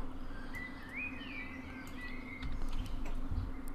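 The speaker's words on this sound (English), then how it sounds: "you can hear all the lovely birds chirping away" Birds chirp at a station in Train Simulator 2015, high whistled calls rising and falling over a steady low hum, with soft thumps near the end.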